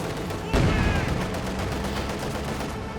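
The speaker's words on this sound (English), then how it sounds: "The machine guns firing into them, the gun blasting away." Gunfire from Company of Heroes 2 as machine guns open on retreating Panzer gunners: a loud burst of rapid shots amid dense battlefield noise, with whistling tones and continuing rattling fire across the clip.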